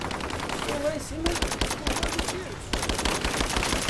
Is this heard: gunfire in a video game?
yes